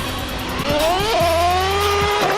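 A Traxxas T-Maxx 3.3 nitro RC truck revs hard, its small engine whining up and down in sharp pitch sweeps, loud and close over a few seconds.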